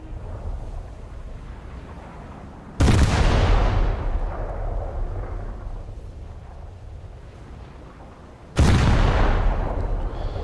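Destroyer naval guns firing in a naval combat video game: two heavy booming blasts spaced several seconds apart, each decaying into a long rumbling tail over steady wind and engine noise.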